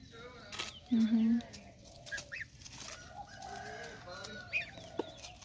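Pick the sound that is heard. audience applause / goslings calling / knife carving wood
goslings calling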